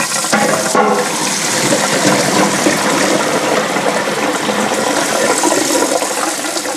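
Hot water from boiled potatoes pours loudly and steadily into a kitchen sink as they are strained for potato pancakes, a continuous close gushing splash throughout.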